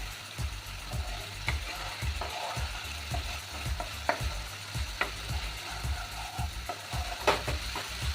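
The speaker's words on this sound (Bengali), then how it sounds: "এবার এই টমেটোটা আমি ভালো করে কষে নেব" Tomatoes fry in a pan with a little sugar and salt while being stirred, soft sizzling under a run of rhythmic clacks and scrapes from a spatula, close and fairly quiet with no voices.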